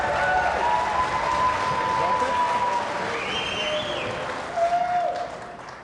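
Crowd applause rises and swells at a pool match after a good shot by the player Corey Deuel, steady clapping filling the room under a commentator's voice, with a brief louder burst near the end.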